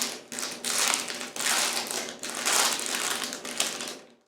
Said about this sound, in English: All right, so let's just take and unwrap this.